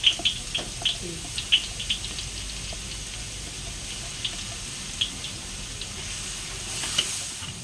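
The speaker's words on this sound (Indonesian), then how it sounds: "Sudah panas, kita masukkan bawang putihnya." Finely blended garlic hits hot oil in a wok for a Chinese restaurant-style dish, giving a soft steady sizzle with several sharp crackles and pops near the start that thin out later.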